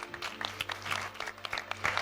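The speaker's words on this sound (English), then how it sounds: "You can already give her a round of applause" An audience at a doctoral research pitch competition applauds a presenter coming to the floor, a brief burst of dense clapping close by.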